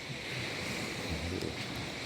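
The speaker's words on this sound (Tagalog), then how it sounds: "Hangin lang talaga guys, malakas." Strong wind roars steadily across the microphone, a continuous rushing blast with no voices.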